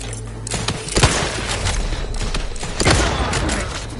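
A hand grenade going off in the game The Outer Worlds 2, a loud close burst of noise with a sharp hit, then a second swell of rumbling blast.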